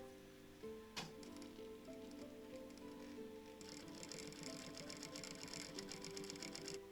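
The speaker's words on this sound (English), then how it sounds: "we're going to sew that up on the sewing machine" A sewing machine stitches fabric steadily with a rapid mechanical whir, louder and busier in the second half, with a sharp click near the start.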